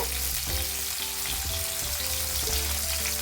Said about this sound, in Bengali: টমেটো করে দিয়ে সফট হওয়া পর্যন্ত টমেটোটা ভালো করে কষিয়ে নেবো